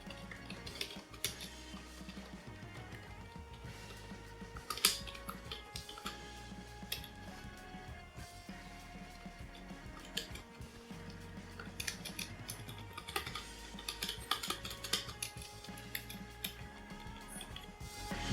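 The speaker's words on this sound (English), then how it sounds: "The chocolate keys provide a somewhat solid feedback with low travel, and typing noise, although present, is very muted." Quiet, muted clicking of typing on the chocolate-style low-travel keys of an FD IK7300 wireless keyboard, a steady run of soft ticks with faint music in the background.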